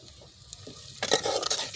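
A ground mixture hitting leftover oil and ghee in a pan to roast for a chana dal dish, faint quiet clatter then a sudden louder burst of sizzling and stirring, no voices.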